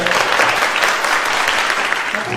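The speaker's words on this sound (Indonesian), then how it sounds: "Tepuk tangan semuanya" A short burst of group clapping from students at an MC training class, dense and fairly close, lasting only a couple of seconds.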